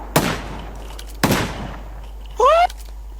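Two sharp gunshots about a second apart in the video game PUBG Lite, crisp and fairly close, followed by a brief tonal whine.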